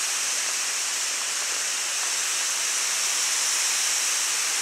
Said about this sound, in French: je vais toujours avec un jet qui est un jet fin à